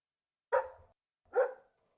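A dog gives two short, sharp barks about a second apart, close and clear against silence.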